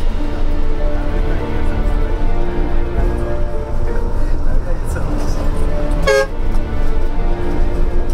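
A car horn gives one clear toot in Chinese traffic on a two-way street, sounding over a steady rumble of passing vehicles and road noise.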